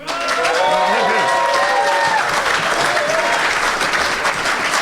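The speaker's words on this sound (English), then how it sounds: "a huge round of applause" A crowd applauds warmly to welcome a poetry reader at a community gathering in Studland, steady clapping filling the whole stretch with a few scattered cheers and whistles rising over it.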